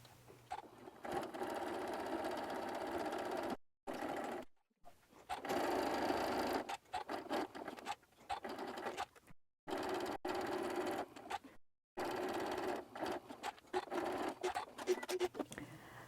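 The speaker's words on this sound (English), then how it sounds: "I'm going to go to the sewing machine and do that" A sewing machine runs in bursts of rapid mechanical stitching through quilt fabric appliqués, stopping briefly several times between runs, close by and fairly quiet.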